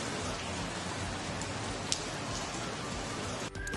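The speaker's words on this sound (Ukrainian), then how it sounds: "Так, вірно, звучить дощ." Steady rain pattering down, a dense continuous hiss with a few brief louder drops, no voices.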